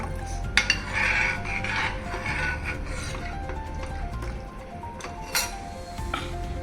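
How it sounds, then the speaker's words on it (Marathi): A spoon stirs coconut-milk dahi kadhi in a pot, giving soft repeated scrapes and clinks against the metal, with a few sharper taps and a gentle liquid swish, close and fairly quiet. "नारळाचं असं ढवळते याच्यात आम्ही नारळाच्या दुधामध्ये ही दही कढी बनवतो"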